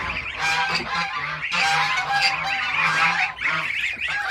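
Geese in a farmyard coop, being given fresh grass, honk loudly and repeatedly at close range, their calls overlapping in a continuous, noisy chorus with no speech.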